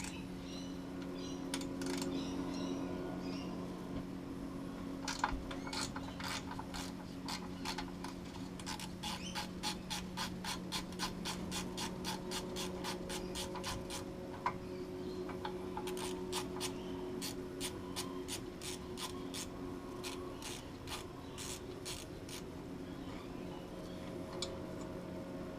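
A ratchet undoing a 12mm nut on the gearbox of an outboard motor, with steady rapid clicking runs repeated several times against a faint background hum.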